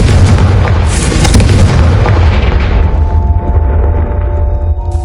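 Confringo fire spell exploding in a video game, a loud booming blast with a rumbling roar that fills the whole clip and slowly fades, leaving a faint tonal ring at the end.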